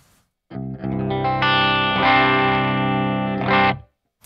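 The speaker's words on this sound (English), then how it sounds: "So let's check out these clean tones." A Jackson JS1X Minion electric guitar played clean through an amp and cab, a few sustained chords ringing out close and loud with a chorus-like shimmer, then cut off abruptly.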